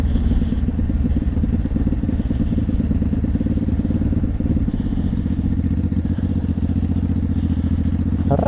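An old car's engine runs steadily after a cold start on a 6-degree day, with a loud, close, rough idle that holds unbroken throughout.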